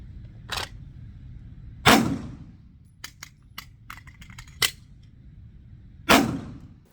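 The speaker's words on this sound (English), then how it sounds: "insert a magazine hard enough to where the slide pops forward" A pistol magazine slams home and the slide snaps forward with sharp metallic clacks, several distinct impacts spaced over a few seconds amid smaller clicks, close and fairly loud.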